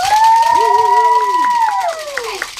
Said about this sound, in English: Y'all clap for those girls